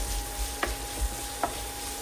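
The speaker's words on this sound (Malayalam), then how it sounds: "സവാള ഒന്ന് ചെറുതായിട്ട് വഴന്ന് വരണം" Onions sauté in a pan for mushroom pulao, a faint low sizzle with a couple of brief scraping stirs, no voices.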